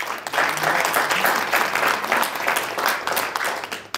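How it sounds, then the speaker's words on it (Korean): Sustained applause from a hall audience at a Gwangju talk greets an honoured chairman, many hands clapping steadily for about four seconds before tapering off. "안준섭 회장님 박수로 환영합니다"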